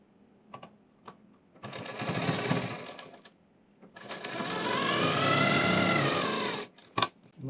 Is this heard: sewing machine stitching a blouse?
yes